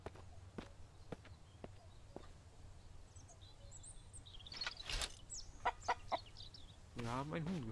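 Chickens clucking at a farm in the survival video game MIST Survival, several short clucks and squawks rising near the end over soft footstep clicks and a low background hum.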